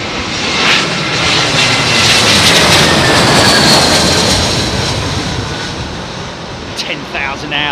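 An airliner lands at Heathrow Airport in windy weather, its engines producing a loud, broad roar that swells and then slowly fades, with someone talking over it.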